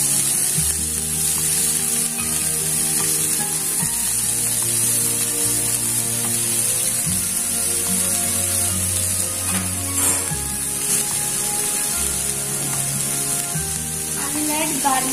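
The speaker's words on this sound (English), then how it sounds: "Stir fry the vegetables just for 1 to 2 minutes." Vegetables stir-frying in a pan give a constant loud sizzle for the whole stretch, with repeated scraping and tossing strokes and occasional light clinks of the utensil.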